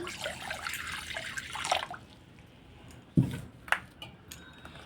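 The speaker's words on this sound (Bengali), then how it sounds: "এবার দিয়ে দেবো কড়ার মধ্যে জল" Water poured into a karahi on a gas stove makes a splashing gush for about two seconds, then stops, followed by a few scattered drips and clinks in a quiet room.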